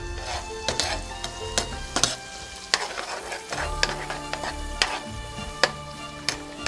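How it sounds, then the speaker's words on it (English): Meatballs frying in warm oil in a pot hiss steadily while a spoon stirs them, with repeated sharp scrapes and taps against the pot's sides. "You keep that oil in there nice and warm. And you stir all that up"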